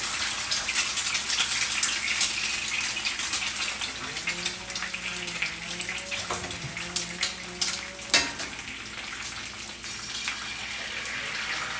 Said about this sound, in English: Now we're going to get some eggs going in here, but I want a little more oil in there